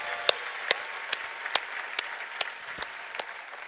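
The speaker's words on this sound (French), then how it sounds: "Est-ce qu'on peut applaudir le plus grand coureur de l'histoire, le Seigneur Jésus?" A church congregation applauding, a steady wash of clapping with sharper individual claps standing out at a fairly even beat, moderately loud and with no talking over it.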